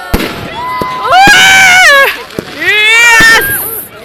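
A close, loud firework display: sharp pops and bursts punctuate rising, wavering whistles of launching rockets, with excited voices nearby.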